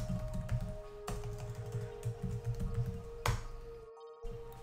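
Quiet typing on a computer keyboard, soft irregular key taps in short bursts with a few sharper clicks, close but faint over a faint steady tone.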